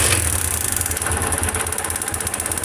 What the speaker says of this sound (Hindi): बाइक को स्टार्ट करेंगे